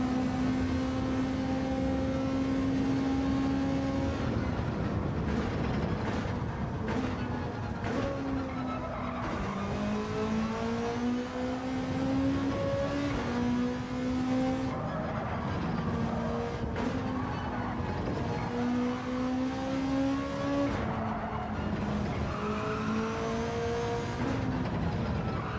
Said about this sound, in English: See how well that 911 can accelerate out of there.